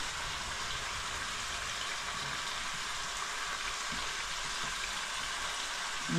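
Garlic hits a hot pan for chicken korai, producing a dense, loud, continuous sizzle and hiss that holds evenly from start to finish with no talking.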